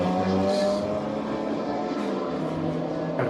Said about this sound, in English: Is this a car coming out of the International Horseshoe smoking?